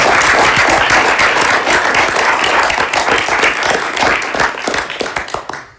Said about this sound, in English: So I'd like to ask the board to join me in a round of applause for Gene.